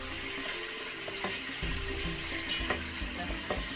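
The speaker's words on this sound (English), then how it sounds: "And if it's nice and crispy, you just turn it around and let the other side cook." Tilapia frying in a pan, a steady soft sizzle with a few light clanks and scrapes, fairly quiet and close, no voices.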